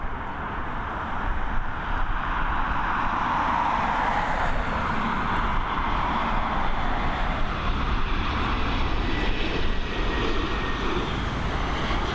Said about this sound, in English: High Sky bringing that A321 Neo on that short journey from Bucharest